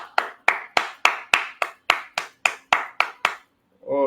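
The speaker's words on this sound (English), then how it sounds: "I want to use a resounding clap to welcome our speaker" A single person claps twelve sharp, evenly spaced times to welcome a speaker at an event on raising a responsible generation, close and loud, followed by a brief voice at the end.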